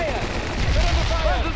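Gunfire and grenade blasts in the real-time strategy game World in Conflict, set during a Russian invasion of the United States, form a dense burst of combat noise under a shouting voice.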